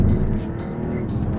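A Maserati MC20 GT2 Stradale race car on throttle gives a low, steady engine drone up close. Faint tyre noise rides over it and no one speaks.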